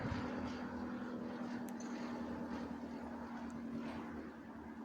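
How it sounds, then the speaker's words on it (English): A small propeller airplane comes in to land near Shiloh Road Cemetery in Windsor, California, its faint, steady engine drone holding at a distance throughout. "Little small airplane this time, not a jet."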